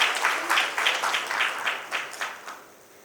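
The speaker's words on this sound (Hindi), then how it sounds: "एक बार फिर से ज़ोरदार तालियां हो जाए माननीय मंत्री जी के लिए" An audience at the Vyapar Rajasthan inaugural session applauds the minister. The clapping comes in rhythmic rounds and fades out over a few seconds.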